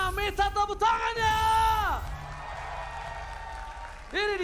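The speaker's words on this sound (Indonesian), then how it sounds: "EPL Arena, minta tepuk tangannya!" An arena crowd at a Mobile Legends esports match between ONIC and Alter Ego applauds and cheers, with whoops and shouted voices over a loud hubbub that fades and then surges back at the end.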